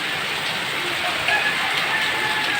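Heavy storm rain in Chennai pours down in a constant dense hiss, close and loud, with no pauses or voices.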